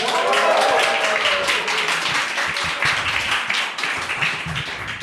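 A live audience at the Vodnikova domačija in Ljubljana claps and cheers on cue in a dense, sustained burst of applause that slowly thins out near the end.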